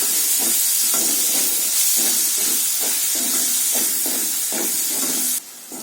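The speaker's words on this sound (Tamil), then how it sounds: "இந்த மசாலாவோட பச்சை வாசனை போற வரைக்கும் நல்லா வதக்கிக்கலாம்" Masala of fennel powder and garam masala sautéing in a pan for an egg masala fry, a loud continuous hiss and sizzle with rhythmic scraping strokes of stirring, easing slightly at the end.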